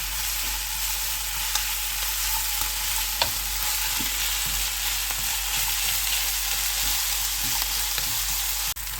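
Pork fry masala sautéing with salt in a pan, a steady close sizzle with soft scraping stirs and occasional sharp clicks of a utensil against the pan.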